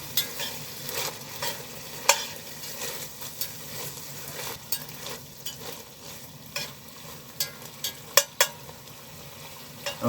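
Beef browning and being stirred in a pot over a camp stove in winter, a steady close sizzle and fry with repeated scraping clinks of the stirring utensil against the pot.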